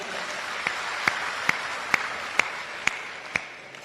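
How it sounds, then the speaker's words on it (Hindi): At a Hindi comic poetry gathering, the hall claps in honour of a district collector, with sharp, evenly spaced claps beating in unison over a low murmur of crowd noise. "मैं चाहता हूं पूरा सदन एक बार कलेक्टर साहब के सम्मान में ताली बजाए।"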